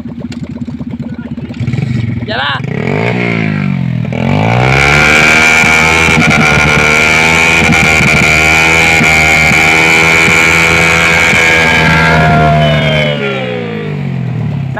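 A Yamaha MT-09 motorcycle with a loud aftermarket muffler revs hard: rising and falling engine roars climb into a sustained high-rpm blare, close and very loud, with a brief voice at the start.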